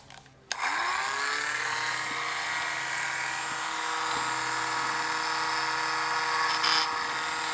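Small drill boring 0.5 mm holes in a DJH 2MT 2-6-0 model locomotive body, starting abruptly and whining at a steady high pitch for several seconds, close and fairly loud.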